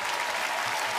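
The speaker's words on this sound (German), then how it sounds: "Hilft dir das, wenn du von drinnen Applaus kriegst?" Crowd applause cheers on a strongman competitor, a brief, steady wash of many clapping hands heard at moderate distance, fairly soft, with no voices on top.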